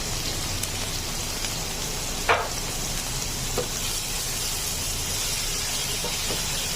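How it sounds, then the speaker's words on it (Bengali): Onion paste frying in oil for a katla fish kalia, giving a steady close hiss of sizzling, with a couple of faint taps from a utensil and no voices. "এখন আমি পেঁয়াজের পেস্টটা দিয়ে দিচ্ছি।"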